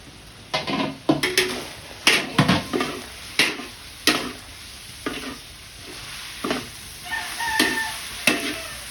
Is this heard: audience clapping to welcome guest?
no